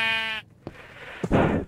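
A sheep in the Minecraft video game gives a single clear, close bleat, followed by a brief pause and a couple of short scuffing game noises.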